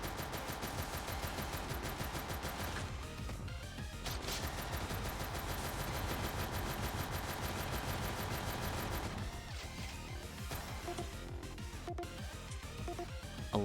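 Rapid, sustained automatic gunfire from a light machine gun in the video game Snezhinka: Sentinel Girls 2, loud and continuous with dense overlapping shots and a brief thinning of the barrage midway.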